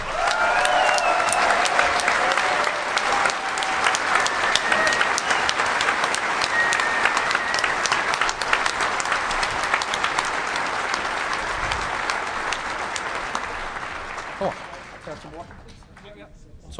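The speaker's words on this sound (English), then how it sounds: "So I want a freaking big hand of applause for Doug Popper." Sustained audience applause at the DEFCON 17 closing ceremonies, a dense, loud roar of many hands clapping together in a large hall for about fifteen seconds before tapering off into scattered claps.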